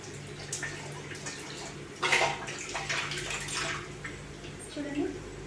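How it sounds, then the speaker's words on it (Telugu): Water pours and splashes into a pan of green chicken curry as the chicken cooks in oil, a steady rushing gush for a few seconds, fairly close, with a voice faintly present. "వాటర్ అనేది యాడ్ చేసుకుంటాను."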